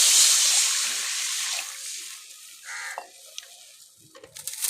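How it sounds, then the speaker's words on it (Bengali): Water splashes and trickles into a wok to start a sugar syrup for crisp khaja sweets, opening as a loud broadband pour that thins into faint dribbles with a few small clinks near the end. "এবার শিরা করার জন্য জলটা কড়াতে দিয়ে দিচ্ছি"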